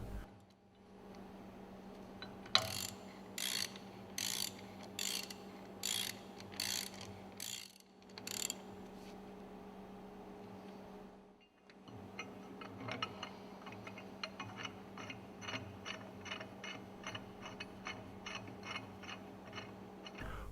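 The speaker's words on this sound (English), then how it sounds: "Hook the crane onto the lifting bracket. Lift the piston rod clear of the wooden plank." Overhead crane lifting a piston rod clear of a wooden plank during a piston overhaul, giving a run of sharp, regular mechanical clicks and ratcheting ticks over a steady low machinery hum, pausing briefly midway before a faster series resumes.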